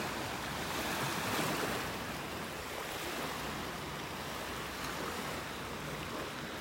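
Gulf surf washes steadily onto the beach at North Naples, Florida, as a continuous broad rush of waves with light wind, moderately distant and without voices.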